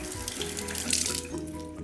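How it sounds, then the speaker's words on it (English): Tap water runs steadily into a kitchen sink as hands are washed after handling egg while making milk bread, a close, continuous splashing stream. "Always important to wash your hands after you touch the egg."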